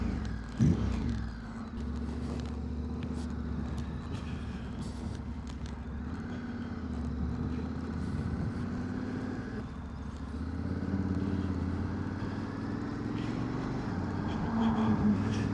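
Engine of a Honda X-ADV 750 motorcycle running steadily with a low droning tone, rising slightly near the end as it pulls away; no talk, with continuous road-like rumble throughout.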